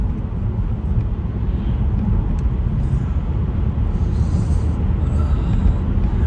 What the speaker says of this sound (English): especially with how noisy my car is